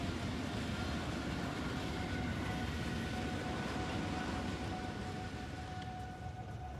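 A train runs along rails in the video game Factorio, a steady, loud rumbling roll with a faint high tonal whine, continuous throughout and easing slightly at the end, with no talking.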